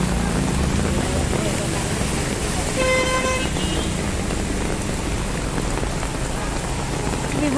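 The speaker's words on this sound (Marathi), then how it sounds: "केवढा मोठा पाऊस आहे" Heavy monsoon rain pours down in Viman Nagar, Pune, a loud unbroken roar of downpour on surfaces, with a brief vehicle horn sounding midway.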